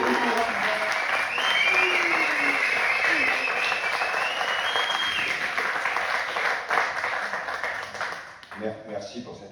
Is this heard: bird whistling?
no